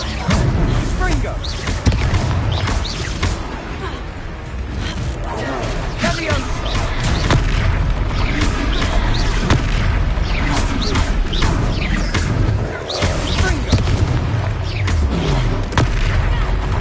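Confringo fire spell explosions in the video game Hogwarts Legacy, cast during a fight: dense, continuous booms and bursts pile up over loud combat noise, with voices speaking throughout.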